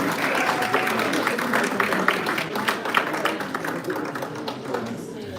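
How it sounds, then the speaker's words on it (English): An audience at a Black History Month community event applauds a hair braiding demonstration with a sustained round of clapping that stays fairly loud and thins slightly toward the end. "can we have another round of applause for the hair braiding demonstration?"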